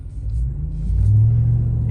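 A supercharged truck pulling a trailer load while driving, with a steady low engine rumble that swells partway through and carries a faint tonal whine above it.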